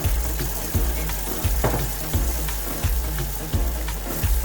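Tomato and onion puree sizzles loudly and steadily in a hot pan for rajma masala, a dense close crackle broken by regular soft knocks, with no talking.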